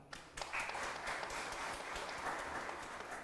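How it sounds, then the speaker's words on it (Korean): An audience at a small-business owners' meeting with Democratic Party officials claps to welcome a guest being introduced. The applause is faint and sustained, a soft wash of many hands. "소개드릴 때마다 큰 박수로 환영해 주시면 감사하겠습니다."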